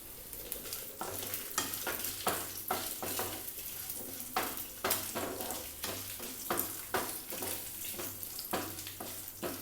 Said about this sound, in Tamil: 4 பல் பூண்டு, சின்ன வெங்காயத்தை நல்லா வதக்கிக்கலாங்க. அடுத்து 6 காஞ்ச மிளகாய் சேர்த்துக்கலாம்.